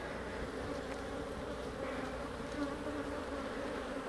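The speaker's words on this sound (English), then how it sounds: "A lot of bees in this hive." A dense, steady buzz of many bees during a hive inspection fills the air, a continuous droning hum with no pauses and no voices.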